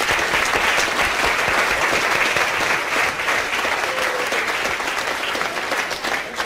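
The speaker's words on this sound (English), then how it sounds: "Give yourselves a round of applause" A lecture audience gives steady, full applause throughout, a dense wash of many hands clapping at once, loud and unbroken with no distinct voices.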